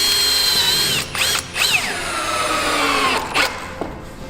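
Screw driven by a power driver into the wall of a flat-roof TousChalets garden shed, a steady close whine with brief pauses and pitch drops as the screw bites, ending in a short burst.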